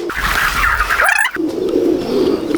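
Pigeons coo on a rooftop loft in Gujranwala, a few soft calls and murmurs close by with steady background noise and a passing vehicle hum.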